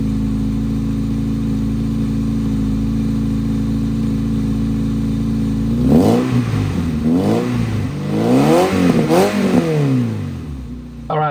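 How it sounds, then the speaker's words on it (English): A motorcycle fitted with a new aftermarket Malian exhaust idles steadily, then is revved in a series of loud rising and falling bursts, close and alone with no talk. "I really want to hear how this exhaust sounds."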